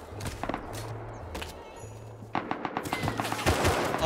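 Gunfire from raiders shooting into a base in the survival game Rust: rapid bursts of shots, sparse at first and then denser and louder in the second half, with footsteps and movement mixed in.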